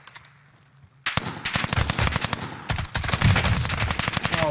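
Rapid automatic gunfire in the video game Warzone, loud and close, starting after a quiet second and firing in dense continuous bursts with a short gap, no talking.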